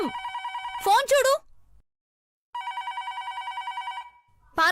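A telephone rings in loud, close trilling bursts, with a voice calling out between rings and a brief silent gap.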